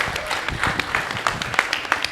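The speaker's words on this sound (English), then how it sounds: "let's give him a round of applause" A small workshop audience claps, a brief, steady patter of many hands at moderate volume lasting a couple of seconds.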